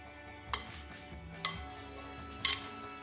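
A spoon clinks against a bowl three times, spaced about a second apart, while pineapple and chicken salad is mixed; quiet, close, with no talking.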